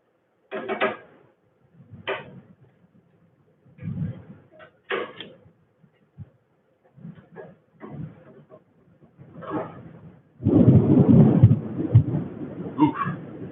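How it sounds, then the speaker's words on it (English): Thunder rolls in loud and sustained over the last few seconds, following scattered knocks and sounds from a workshop during a resin-casting session. "That's some thunder."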